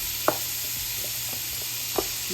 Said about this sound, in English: we're just gonna lay both of our turkey burgers on there